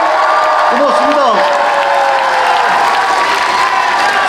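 Crowd at a Busan campaign rally for a candidate cheers and applauds in a loud, continuous mass of sound, with shouts and whistles rising over it and an amplified voice tone running through.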